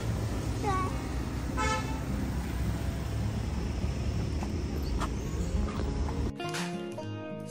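A car arrives home with two short horn toots early on, over steady road and engine noise that shifts abruptly near the end.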